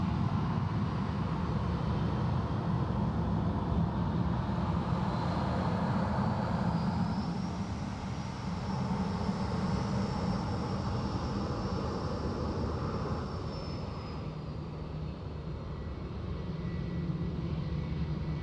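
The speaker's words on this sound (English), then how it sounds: "Alright, Qantas 330 just coming out to play there as well." A Qantas Airbus A330 jet at Sydney Airport rumbles steadily at a distance, a broad continuous engine roar with a rising whine that holds and then fades, with no voices.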